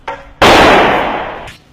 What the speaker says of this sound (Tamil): இந்த வெடி பத்த வச்சாலும் வெடிக்காது, தூக்கி அடிச்சாதான் வெடிக்கும்.